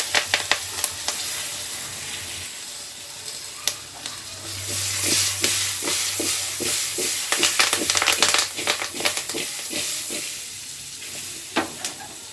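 Bottle gourd pieces sizzle in a frying pan with curry leaves. The hiss is steady and close, with clustered stirring scrapes and taps through the middle and a few sharp knocks toward the end.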